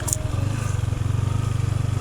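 A motorcycle on a rough mountain trail with no road, its engine thumping in a steady low pulsing rhythm, close and continuous, with a brief high clatter near the start.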